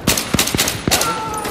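Semi-automatic sniper rifle in Battlefield 3 on Karg Island, four quick loud shots in a rapid uneven burst with a short ringing tail.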